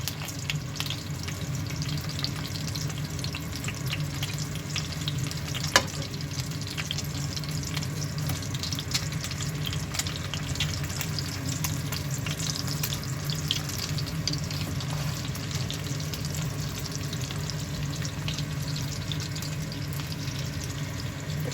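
Pork cutlets fry in a pan with a steady, close crackling sizzle that runs evenly throughout, one brief sharp tick near the middle and no voices.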